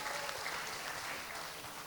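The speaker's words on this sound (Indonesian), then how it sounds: "Kasih tepuk tangan buat Tuhan Yesus." Church congregation at a Sunday service applauding, a steady, moderately loud wash of many hands clapping together.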